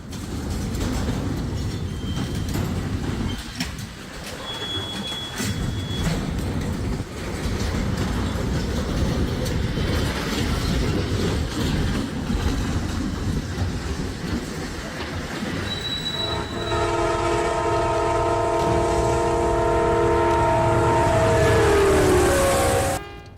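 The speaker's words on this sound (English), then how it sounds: "a Canadian Pacific train in Franklin Park, Illinois, slowly lost balance and derailed." Canadian Pacific freight train derailing in Franklin Park, Illinois, heard as a loud, continuous rumble of rolling rail cars, with metallic wheel squeals and grinding tones rising near the end.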